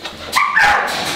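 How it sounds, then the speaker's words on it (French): Small dogs give a few sharp, close yaps and whiny barks in quick succession at a French animal shelter, short and loud with no talk over them. "mes petits chiens"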